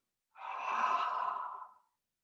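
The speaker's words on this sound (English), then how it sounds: "Clear everything out with your exhale." One long, deep exhale during yoga breathing, a soft breathy rush close to the mic that swells and fades over about a second and a half, with silence around it.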